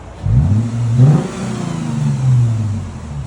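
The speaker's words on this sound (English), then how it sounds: "we got a 2013 Lexus GS350 all-wheel drive. That's what it sounds like before" A 2013 Lexus GS 350 all-wheel-drive sedan with its 3.5L V6 on the stock exhaust revs twice from idle, each rise and fall smooth and close, ending in a steady idle hum.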